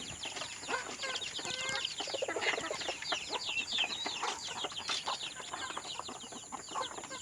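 Soft clucking from a hen mingles with many high, chirping peeps from chicks, a busy continuous chatter close by.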